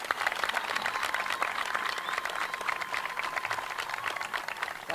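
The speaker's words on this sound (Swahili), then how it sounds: "Kwa hiyo naomba tumpigie makofi mazito." An audience gives a dense, sustained round of applause at the opening ceremony of a new basketball court in Kisarawe, heard from a short distance without speech.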